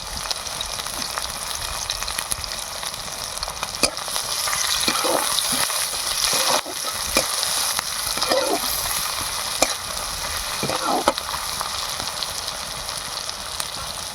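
Onion and garlic fry in hot oil for a rural-style puti fish curry, giving a continuous close sizzle with occasional scrapes and clinks from stirring.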